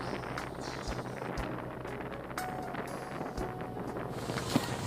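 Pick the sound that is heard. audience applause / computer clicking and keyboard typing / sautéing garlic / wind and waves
wind and waves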